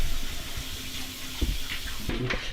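A tap runs for handwashing at a sink, a steady close stream of water with a few brief knocks and splashes, no voices.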